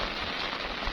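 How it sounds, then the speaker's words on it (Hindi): Steady rain pouring down outdoors on a journey through Siran Valley in Mansehra district, a dense, even hiss of drops on surfaces throughout, close and loud with no voices. "बारिश शुरू हो गई है।"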